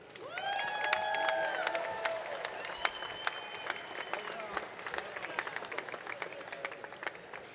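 A crowd at an outdoor Fourth of July Declaration of Independence reading ceremony breaks into rousing applause, sharp clapping mixed with cheers and shouted voices that swell early and then thin out into scattered claps.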